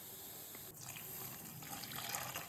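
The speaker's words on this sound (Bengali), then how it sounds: "একদম অল্প জল দিয়ে ভিজিয়ে রাখবো।" Water poured over semolina in a home kitchen to soak it for mango gulgula: a steady, close gush of liquid running throughout, with no talk.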